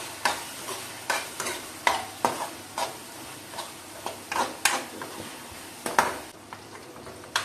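Spices for a fish muitha fry in a pan with a soft, constant sizzle, while a spoon scrapes and stirs in a steady rhythm of close, repeated strokes about twice a second.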